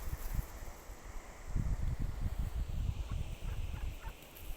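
Ducks calling near the camera in a steady stream of low, overlapping quacks and gabbling over faint rustling outdoor ambience, with no talking.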